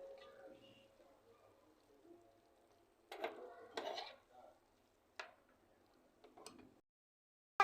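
Tomatoes and onions being stirred in a pan: sparse, quiet scrapes and clinks of a utensil against metal, a few sharper knocks between softer stirring, close and otherwise near-silent.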